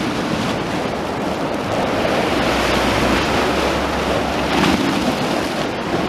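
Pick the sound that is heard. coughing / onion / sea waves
sea waves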